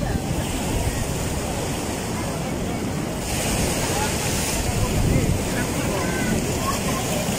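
Ocean surf at Sadranan beach rolls in as a steady broadband wash, with gusts of wind buffeting the microphone and a slight swell in loudness midway through.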